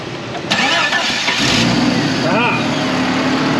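A Jeep Cherokee 4.0 engine cranks over and fires up, then settles into a steady, close idle that rumbles on without a break, with voices heard talking over it.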